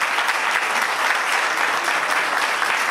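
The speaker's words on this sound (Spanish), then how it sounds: "Pido un fuerte aplauso para ellos, porque la verdad que son un orgullo." Applause at a celebration at the Dr Sallarés retirement home, given for municipal workers: a steady, loud round of clapping from a crowd that lasts the whole time, with no pause or speech over it.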